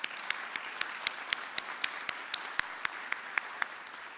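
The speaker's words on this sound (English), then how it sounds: "I would like to take a moment and ask all of us to applaud the faculty" Applause for faculty at a master's pinning ceremony: a moderate, somewhat distant crowd clapping with a few crisp claps regularly punctuating the steady patter.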